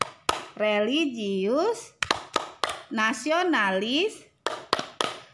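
A class performs the Tepuk PPK clap, with sharp, rhythmic bursts of hand clapping in quick groups between stretches of chanted words, loud and close.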